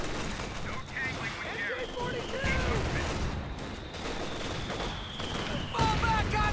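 Machine gun fire and battle noise in the World War II strategy game Company of Heroes 2, a steady rattle of gunfire with rumbling blasts under shouted voices and a whistling shell sound.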